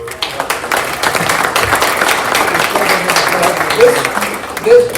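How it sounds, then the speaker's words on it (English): An audience at a Leavenworth County town hall claps, a loud, uneven patter of applause with occasional louder peaks and a whistle or cheer near the end. "another round of applause for this guy"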